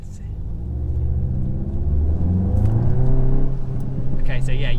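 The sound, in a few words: VW Golf GTI Clubsport Mk8 engine revving on icy road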